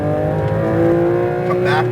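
A Porsche 992 GT3 RS accelerates hard on a track at Speed Vegas, its engine note loud and steady and close to the microphone, under a voice giving driving instructions.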